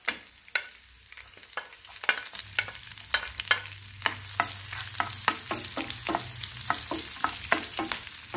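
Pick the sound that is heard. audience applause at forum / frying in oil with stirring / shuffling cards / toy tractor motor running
frying in oil with stirring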